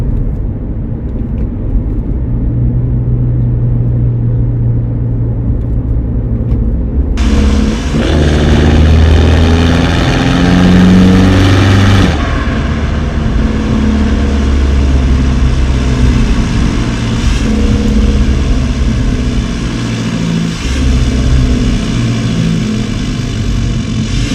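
A BMW E60 exhaust burbles at idle with a low, steady drone, briefly rising in a couple of revs before settling back to idle.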